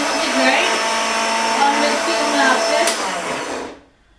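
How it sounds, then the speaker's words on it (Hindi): A mixer grinder grinding food gives a loud, steady, close motor whine that runs for several seconds and then cuts off, fading into near silence. "क्योंकि ग्राइंडर की आवाज़ में फिर मेरी आवाज़ नहीं आती है"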